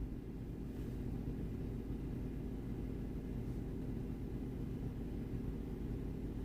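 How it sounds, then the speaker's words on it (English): Wind gusting hard around a parked car outside at night, a steady low rumbling roar that stays loud and even throughout with no voices. "let's just listen to the wind."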